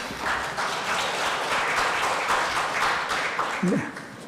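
Sustained audience applause welcomes the host at a Sejongno policy forum lecture, a dense, even wash of clapping with a brief voice near the end.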